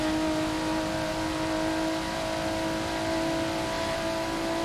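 Race cars in a twin sprint event at Virginia International Raceway accelerate down the back straight, a steady sustained engine drone with strong harmonic tones throughout, fairly loud and unbroken, no talking.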